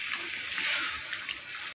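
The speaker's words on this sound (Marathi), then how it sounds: "यामध्ये मी गरम पाणी ॲड करत आहे." Hot water poured into a pot of steamed chicken curry, a short, steady splashing gush that stops abruptly, close and fairly quiet.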